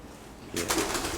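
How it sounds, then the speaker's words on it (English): A soft pigeon coo sounds briefly after a moment of quiet inside an old county jail, faint and somewhat distant. "There is sounds in here. I think it might still be the pigeons."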